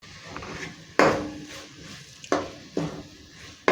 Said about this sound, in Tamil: வெங்காயம் தக்காளியை நல்லா வதக்கியாச்சு